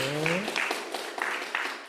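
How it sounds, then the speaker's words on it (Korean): A church congregation claps to welcome a visitor during Sunday worship, a brief scattered patter of hands that starts just as a voice ends. "박수로 환영하겠습니다"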